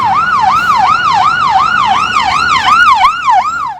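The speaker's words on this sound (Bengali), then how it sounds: "অ্যাম্বুলেন্স আসছে" A loud ambulance siren sounds close behind on a main road, its rapid rising-and-falling wail repeating without a break over a low hum of traffic.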